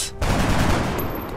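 A burst of gunfire in the turn-based strategy game XCOM: Enemy Unknown: a loud, close, rapid volley of shots that rings out for just over a second, with no voices over it.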